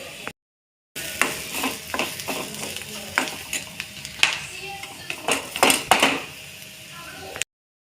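Chopped ridge gourd sizzles and gets stirred in a pan with onion, garlic and spices for chutney, with soft scraping and clinks of a spoon close by over the steady frying.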